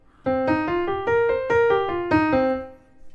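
Keyboard notes trace a pentatonic five-note scale, about nine clear tones rising then falling in a steady rhythm after a brief quiet start, the last note ringing out and fading alone.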